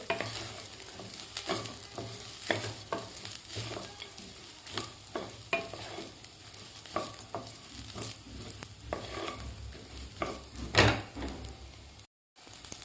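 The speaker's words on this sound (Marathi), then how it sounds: "दोन मिनिटं मी हे तांदूळ व्यवस्थित तुपामध्ये परतून घेतलेले आहेत" Rice is stirred and roasted in ghee in a pot for a traditional coconut rice, with rhythmic scraping spatula strokes over a soft sizzle, steady and close, then a brief dropout near the end.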